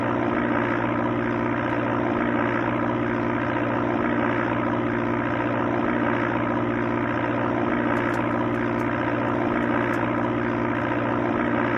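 Steady propeller engine drone of a light plane in the Amiga game Sublogic Flight Simulator II, a continuous even hum held at constant pitch throughout with no talking.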